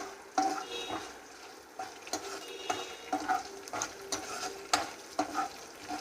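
Spices and ingredients frying in a pan for mushroom biryani, a steady close sizzle broken by repeated scraping stirs from a spoon against the pan, with no talking.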